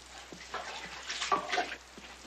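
Water is poured for a drink in an old Western scene, a faint trickle and splash lasting a couple of seconds over a low hum.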